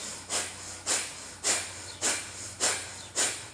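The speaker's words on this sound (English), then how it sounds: "breath of fire, if you're unfamiliar, is going to be sharp diaphragmatic breathing in and out through your nose while you pump your belly on the exhale" Sharp, rhythmic breath-of-fire yoga breathing through the nose, six quick forceful nasal puffs at a steady pace of about two per second, close and fairly quiet with no talking.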